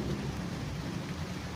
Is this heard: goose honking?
no